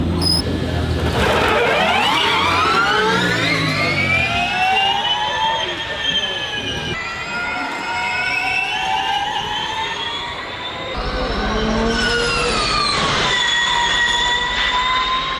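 Porsche 718 Cayman GT4 e-Performance electric car emits a loud synthetic drive sound, layered whining tones sweeping up and down in pitch like an accelerating motor, continuous for about fifteen seconds.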